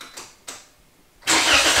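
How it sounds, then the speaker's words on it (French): Toyota Corolla fitted with a Borla exhaust firing up from cold: two faint cranking bursts, then the engine catches into a loud, steady, broadband roar close by. "ça c'est le cold start"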